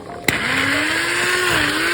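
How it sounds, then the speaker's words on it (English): Immersion blender whirring through butter chicken sauce, a loud, steady motorized hum close up that starts with a brief knock and holds with a slowly rising pitch. "So we are going to take the immersion blender."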